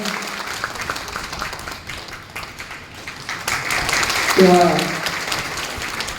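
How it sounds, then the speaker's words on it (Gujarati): Audience applause at a best-teacher award and felicitation ceremony: a broad, steady wash of clapping from a crowd, continuing under a voice speaking over a loudspeaker, swelling near the end. "જોરદાર તાળીઓ આપણે"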